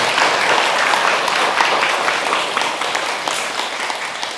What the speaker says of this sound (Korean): 여러분 자신에게도 박수 한번 보내죠